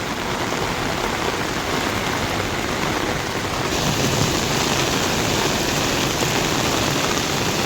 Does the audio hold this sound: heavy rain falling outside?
yes